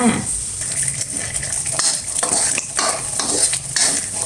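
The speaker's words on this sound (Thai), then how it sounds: "ผัดให้หอมๆเลยนะคะผัดให้พริกแกง เข้ากับกระเทียมหอมเลยจ้ะ" Red curry paste and garlic stir-fried in a pan, for a bitter melon and pork belly curry, sizzle loudly and close while a utensil scrapes and stirs in repeated strokes.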